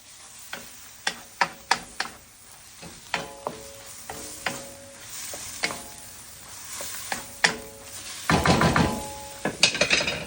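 Soft scrambled egg for crab fried rice is mixed together in a sizzling pan, with a series of sharp clacks and taps of the utensil against the pan over a low fry, ending in a louder burst of stirring.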